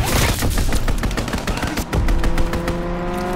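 Strafing run gunfire in Call of Duty: WWII: loud, rapid machine-gun bursts rattle continuously over a roaring engine, with dense overlapping shots for a few seconds and no talking.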